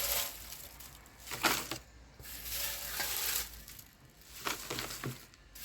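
Crushed dry leaves dropped into a plant pot as a base layer for an aglaonema potting mix, giving close, crackly rustling in short intermittent bursts.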